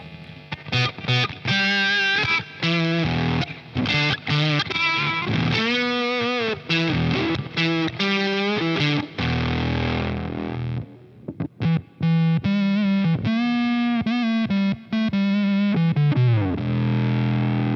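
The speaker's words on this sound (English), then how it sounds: "this is like a really cool, almost synthy, square wave kind of bass sound" A buzzy, synth-like square-wave bass tone from a Boss OC-5 octave pedal with fuzz, octave down, dry mix low, heavy fuzz, played as a continuous run of notes with short gaps, loud and upfront.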